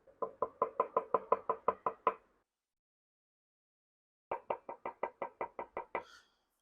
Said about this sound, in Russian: Постучать по ней надо, конечно же, чтобы все поняли, услышали, какая древесина.